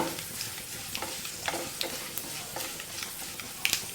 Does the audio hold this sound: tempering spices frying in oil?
yes